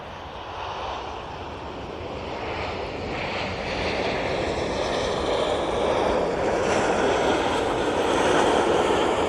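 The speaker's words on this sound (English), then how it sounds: "Here comes the Easyjet" An EasyJet airliner arrives at Manchester Airport from the Isle of Man, its jet roar a steady, distant wash of sound that slowly grows louder.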